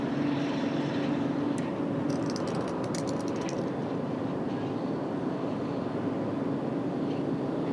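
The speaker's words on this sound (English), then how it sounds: "Got a departure over there on 30." Steady broadband aircraft noise at a busy hub airport as a plane departs from runway 30, a continuous distant roar with faint higher whine, no voices.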